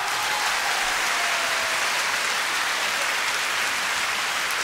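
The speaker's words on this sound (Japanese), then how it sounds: "若干拍手の音圧が下がったような気が" A concert audience at a 25th-anniversary live show applauds in a dense, even wash of clapping that holds steady throughout, with no talk over it.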